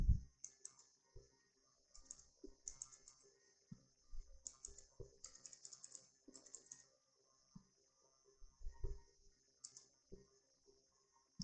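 A file name is typed on a computer keyboard: quiet, close, uneven bursts of key clicks with short pauses, each ending in a louder tap, and no talking.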